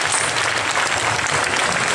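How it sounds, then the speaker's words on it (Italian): An audience claps at an outdoor commemoration ceremony, with loud, steady, sustained applause from a crowd throughout. "Non lesinate gli applausi"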